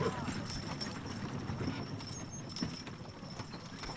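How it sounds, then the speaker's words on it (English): Horse-drawn wagons roll across the Kansas prairie, hooves clip-clopping steadily at a walking pace, a moderately loud rhythmic clatter over a continuous outdoor background. "the wagons begin to roll"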